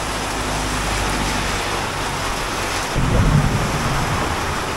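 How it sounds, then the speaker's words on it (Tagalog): Thunder rumbles low and heavy through steady rainstorm noise in the Cordillera mountains near Aritao, Nueva Vizcaya, swelling louder in the last couple of seconds with no talk over it. "Kumukulog pa."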